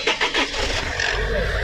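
A 2005 Toyota Hiace GL ambulance with a 2200 cc engine cranks with a few quick churning bursts, then catches and settles into a steady running drone, close by.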